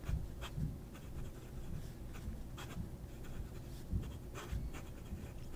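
A pen nib with a little spring scratches across paper, making faint close-up strokes in short irregular bursts with no talking.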